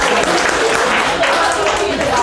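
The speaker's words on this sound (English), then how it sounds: "Give yourselves a round of applause, guys." An audience claps steadily in a dense wash of applause, with no pauses.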